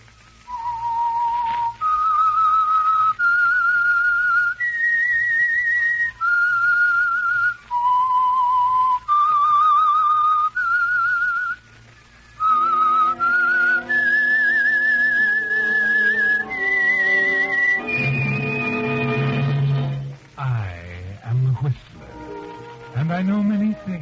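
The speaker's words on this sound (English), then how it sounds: "whistle is your signal for the Signal Oil program" A lone whistler carries the eerie theme tune of the old-time radio mystery program The Whistler, a slow series of clear sustained notes stepping up and down, growing denser and wavering toward the end.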